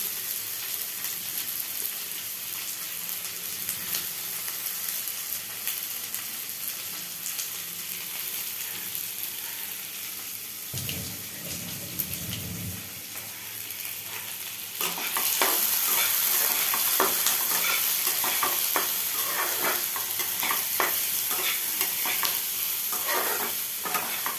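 Onions fry in a pot as the base for a mutton curry, giving a continuous close sizzle with stirring. The frying swells louder and more crackly partway through and carries on alone without speech.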